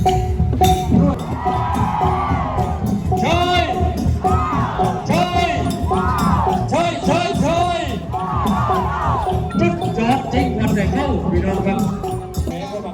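A large festival crowd at a Trang boat-pulling procession whoops and hoots in loud, rising calls that answer back and forth in waves, with shouting voices and steady crowd noise throughout.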